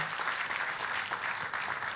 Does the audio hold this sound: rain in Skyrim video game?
no